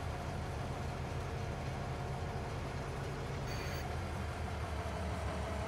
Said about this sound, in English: let's take a little train ride.